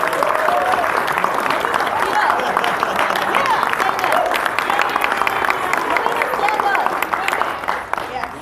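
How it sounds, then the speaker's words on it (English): A crowd applauds steadily for several seconds at a Century College leadership recognition ceremony, a dense wash of clapping that fills the room and holds at an even level. "everyone give them a big round of applause"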